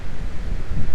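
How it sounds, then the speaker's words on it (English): Strong wind buffets the microphone on a mountain trail hike near Lake Tahoe, a steady loud roar with gusty low-end thumps and no one speaking. "So I'm sure I'm gonna hit the wind once I clear these trees."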